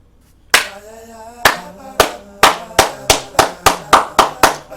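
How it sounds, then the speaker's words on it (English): One person delivers a slow soul clap, sharp single hand claps ringing out with a tonal echo, about eleven of them that start spaced apart and then quicken into a steady rhythm, close and loud with nothing else around. "I gotta hit him with a soul clap"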